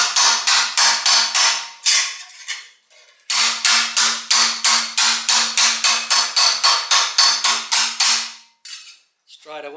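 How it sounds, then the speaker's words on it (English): A planishing hammer pounds a car body panel in fast, loud, evenly spaced metallic blows, two bursts of rapid strikes with a short pause between them. "Where's my planishing hammer?"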